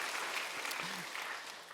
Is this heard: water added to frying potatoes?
no